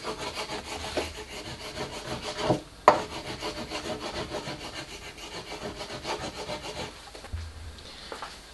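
A wooden drawer waxed with candle wax slides back and forth with steady, rhythmic rubbing scrapes and a sharp knock partway through, close by and without talk.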